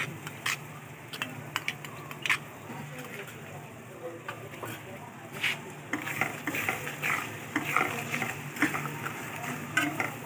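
Onion paste frying in a pan for chicken korma, a soft steady sizzle with occasional stirring scrapes and clinks, close by, with a voice talking over it.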